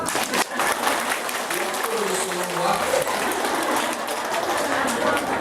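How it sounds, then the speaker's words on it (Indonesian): Applause from the audience at an Islamic religious lecture, steady and dense for several seconds, with some talk mixed in. "Tepuk tangan atuh"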